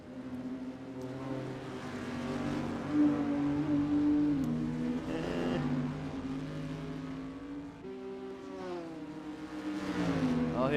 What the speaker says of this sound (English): The straight line speed of that Supra absolutely blasting past